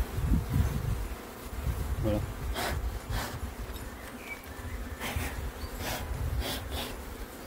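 Low, steady buzzing of many bees close by at a hive, with brief handling noises and a short spoken word partway through.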